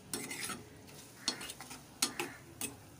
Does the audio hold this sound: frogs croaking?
no